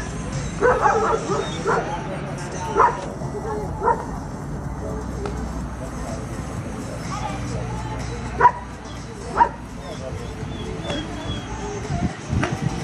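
Short, sharp dog barks and yips ring out at intervals at a rescue dog club demonstration in Balassagyarmat, where a female dog faces a charging helper in a courage test, with crowd murmur and voices behind.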